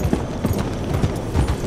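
Horse hooves clip-clop in Red Dead Redemption 2, a steady walking rhythm of soft thuds over a continuous game ambience.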